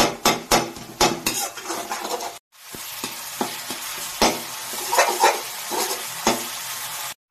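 Meat curry with meat masala frying and being stirred in a pan, with close, loud sizzling and repeated clinks of a spoon against the metal, a brief pause partway, then steady frying with scattered scraping strokes.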